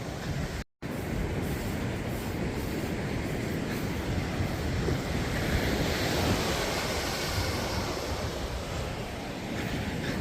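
Ocean waves and wind on a shore along a hiking route: continuous broadband surf roar and wind rush that stays steady and fairly loud for ten seconds, with one brief dropout near the start.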